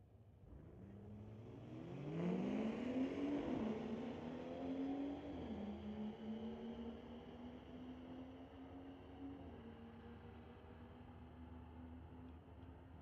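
A BMW X5 and a BMW 340i drag race at Mission Raceway, with a loud engine surge rising through the gears, then a long steady drone fading slightly into the distance.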